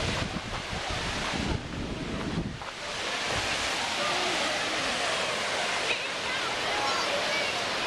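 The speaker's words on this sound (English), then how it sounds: "Oh yeah, there's the falls." A waterfall and river at Lava Hot Springs rush in a steady broadband roar, with wind buffeting the microphone and a brief burst of louder turbulence early on.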